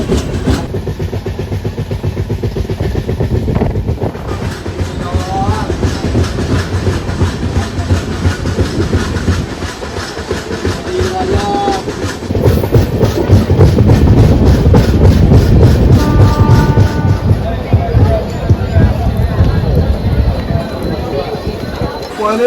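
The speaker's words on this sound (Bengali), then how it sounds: "এখন দামলিপুর এক্সপ্রেস প্রবেশ করছে মেছেদা রেলওয়ে স্টেশনে" Tamralipta Express pulling into Mecheda railway station, a steady loud rumble with rhythmic clickety-clack of wheels and a few brief whistle-like tones, voices talking underneath.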